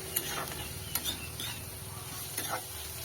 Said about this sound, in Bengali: তো শাকগুলোকে ভালোভাবে নাড়িয়ে কাঁচা গন্ধ যাওয়া অবধি নাড়তে হবে